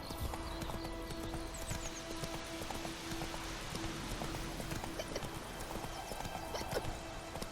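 Roach, a horse in The Witcher 3 game, trots with a steady, continuous clip-clop of hooves, moderately loud against a soft outdoor background with a faint, rain-like hiss.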